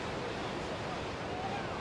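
Ocean surf on a Newquay beach during a lifesaving championship with the tide rising: a steady, loud wash of breaking waves mixed with gusty wind noise on the microphone, with no distinct pauses.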